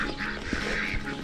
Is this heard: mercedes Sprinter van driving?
no